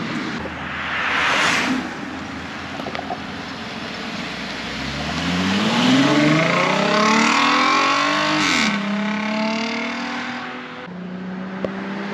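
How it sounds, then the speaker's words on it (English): A VW Atlas R-Line fitted with a B2BFAB Wookie exhaust drives past on a noisy street, engine note rising as it accelerates and approaches, peaking near, then fading away over background traffic. "we're gonna go out here on this noisy street and I'm gonna film some drive-bys with him driving"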